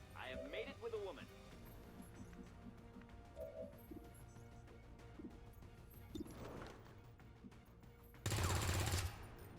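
Gunfire in the video game XCOM 2, with scattered shots and a loud burst of automatic fire near the end over a steady game ambience; voices speak intermittently.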